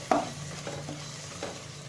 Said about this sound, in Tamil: இப்போ பாருங்கள், இது நல்லா கொதிச்சிருச்சு